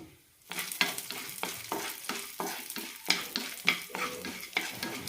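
Chana dal and urad dal dry roasting in a pan, stirred in a steady rhythm of about nine scraping, rattling strokes, close and fairly quiet, with no talking.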